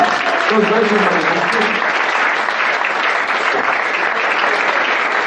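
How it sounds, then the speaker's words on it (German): An audience applauding a young man at a Cologne comedy stage show, a continuous, evenly loud wash of many hands clapping throughout, with a voice speaking briefly over the start. "Vielleicht einen Applaus für diesen jungen Herrn hier."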